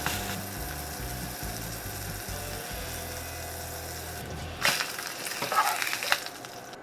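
A vegan onion burger fries crispy on a griddle with a steady close sizzle over a low rumbling hum, then a louder burst of crackling and scraping near the end.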